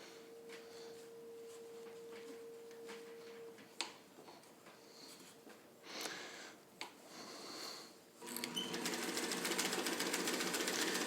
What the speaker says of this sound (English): And I'm sewing through 4 layers of it